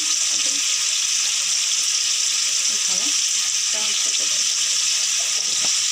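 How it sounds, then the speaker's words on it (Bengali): Tomatoes fry with salt and turmeric in a hot pan, giving a loud, dense, constant sizzle with faint stirring scrapes and a few brief murmurs of background speech. "আর পরিমাণ মতন হলুদ দিয়ে টমেটোটাকে লাল লাল করে ভেজে নেওয়া হবে"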